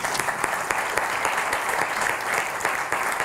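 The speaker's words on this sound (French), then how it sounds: "On va laisser l'auditoire vous applaudir pendant qu'on peut faire la photo." An award ceremony audience gives sustained, fairly close applause with crisp individual claps standing out above a dense, even patter.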